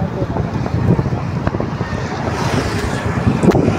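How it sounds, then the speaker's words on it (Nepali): Wind blows across a microphone on a riverbank sandbar, a continuous rough rumble with gusts swelling and easing throughout, loud and close. "बस्दाखेरि हावा मस्त आइरहेछ"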